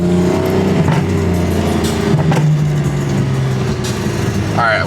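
A loud straight-piped car exhaust revs and passes nearby at a car meet, a harsh, rough engine drone rising and falling with a higher whine near the end, while voices talk underneath.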